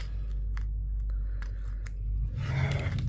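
Scissors snip through sewing lining fabric in a few separate cuts, close and fairly quiet, followed by a denser burst of rustling and cutting near the end.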